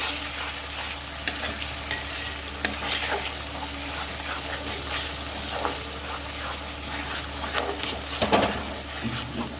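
Paneer masala with salt and a little turmeric powder stir-fries in a pan for a Kashmiri shahi paneer, giving a steady sizzle with scraping stirs throughout and a few louder clatters near the end.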